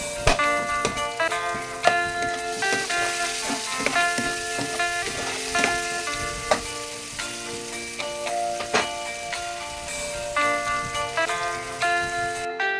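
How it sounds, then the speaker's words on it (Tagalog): Large pieces of ginger sautéing in a pan for a Filipino mixed-vegetable coconut dish, a continuous crackling sizzle with occasional stirring ticks over soft background music. "Gisa-gisa natin ang luya natin para mabango"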